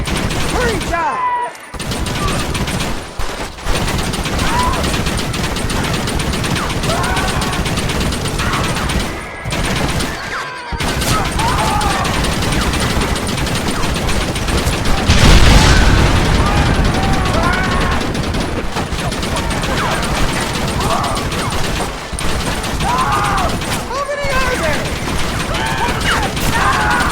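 Sustained gunfire in Red Dead Redemption on PS3, rapid overlapping shots crackling almost continuously from many guns at once, loud and close, with brief gaps and a heavier burst midway.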